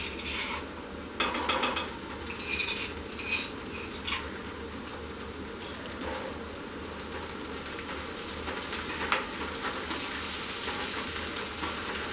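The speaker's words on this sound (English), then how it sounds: "Give it a stir." Chicken with crushed ginger and garlic sizzles steadily in a pan over a medium-high gas flame, with scraping, rustling stirs breaking through the continuous frying hiss close by.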